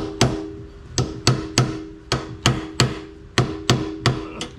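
Hammer blows on a Ford Falcon AU XR8 manual gearbox conversion, about nine sharp, evenly spaced metallic strikes ringing close by, with no talk.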